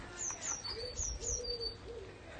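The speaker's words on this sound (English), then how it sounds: "Lots of blackbirds around here as well" Blackbirds sing in a garden with a few high, fluting whistled phrases and lower warbling notes, moderately close against quiet outdoor ambience.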